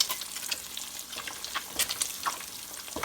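An egg fries in a pan while a flat spatula pushes across it, giving a soft crackling sizzle with light scraping strokes, fairly quiet and close, with no voices.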